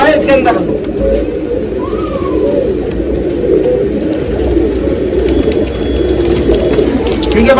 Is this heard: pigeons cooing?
yes